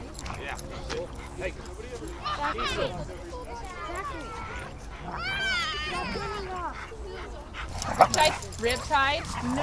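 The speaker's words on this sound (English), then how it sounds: "Oh, there is that tiny dog was." Several dogs at a dog park bark, yip and whimper in overlapping bursts at close range, with people talking throughout.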